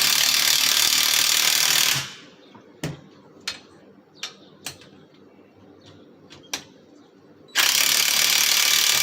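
A ratchet clicks out a handful of sharp, spaced strokes while tightening a Pontiac Fiero strut assembly, set between louder stretches of steady broadband noise at the start and end.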